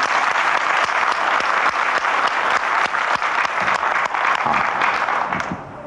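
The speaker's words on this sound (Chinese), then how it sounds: "拍手啊！" An audience at a dharma lecture in a rural hall breaks into sustained, dense clapping, many hands at once, loud and even throughout before tapering off at the close.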